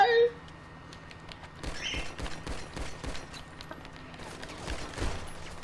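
Gunfire in GTA V Online, a volley of rapid sharp shots in a stadium setting, fairly loud and irregular, heard alone with no voices over it.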